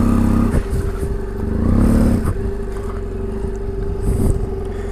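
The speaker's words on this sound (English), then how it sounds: "This is a seriously amazing off-road bike." An off-road motorcycle ridden through wet terrain, its engine droning loud and close, rising and falling with the throttle, with clatter and splashy bursts along the way.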